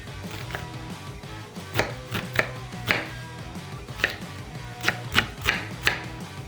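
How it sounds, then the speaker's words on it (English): A knife rough-chops an onion on a cutting board, with about a dozen crisp, irregular thuds spaced close together, near and clear with no talk over them. "Just gonna rough chop the onion."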